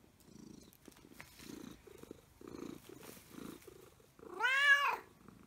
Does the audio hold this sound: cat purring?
yes